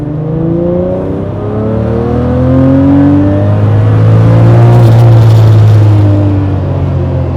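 A Lamborghini Murciélago V12 revving hard under acceleration, a loud, close engine note climbing through the gears in rising sweeps with a roaring peak midway.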